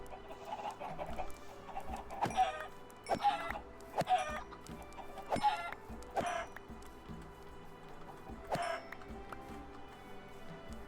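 Chickens in the Township Tales video game cluck in a series of sharp, repeated bursts spread across several seconds, fairly close and clear over a low, steady game background with no talking.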